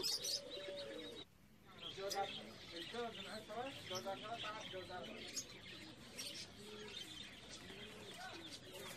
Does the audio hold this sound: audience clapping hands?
no